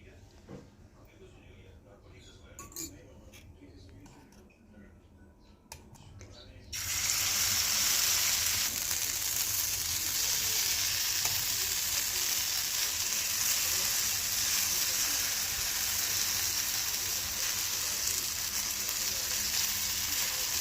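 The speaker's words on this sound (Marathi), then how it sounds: "हे बघा परत तुम्हाला अशी तव्यावर बनवून दाखवते मी." Bhagar fasting flatbread cooking on a hot tawa griddle, a loud steady sizzle that starts abruptly about seven seconds in and continues unbroken, with faint kitchen noises before it.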